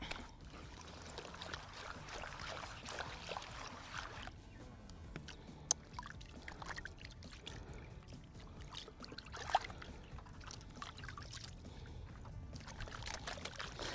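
Gold-bearing material being panned in water in California, with steady sloshing and trickling water throughout, a soft swirling wash interrupted by two brief sharp clicks of grit or pan rim.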